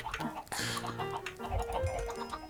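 Chickens cluck and squawk in Minecraft, several short calls close together over a busy background of game sounds, with no talk during the clip.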